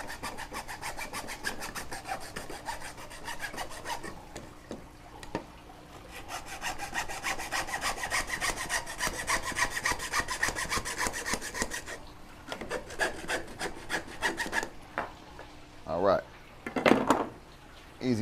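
A cut aquarium plumbing pipe being deburred with rapid, rasping back-and-forth strokes, close and steady, followed near the end by a few louder knocks and handling sounds.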